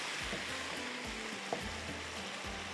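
Paneer, tinda and masala roasting in a pan, softly sizzling while being stirred. The sound is faint and low, with a light steady crackle and one brief scrape partway through, and no voices.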